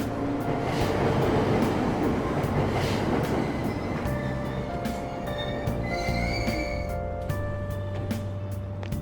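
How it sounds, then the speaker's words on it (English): A commuter train in the Persona 5 Royal video game pulls away from a Tokyo station, rumbling loudly with rising motor whine, rattling wheels and tonal hums, continuous and close with no talking. "Train doors are now closing. Please stand back."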